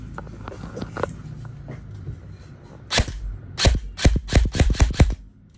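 E&C G28 airsoft rifle test-fired, a few scattered soft shots and then a loud close run of sharp cracks in quick succession.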